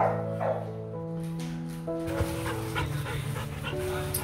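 A Rottweiler female pants rapidly and lets out a few barks and yips close by, while a person talks over the dog at times.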